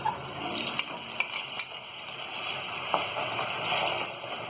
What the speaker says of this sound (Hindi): तो इसी तेल में हम ये आलूओं को भी डाल देंगे